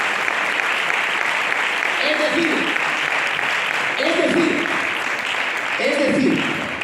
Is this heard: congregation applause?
yes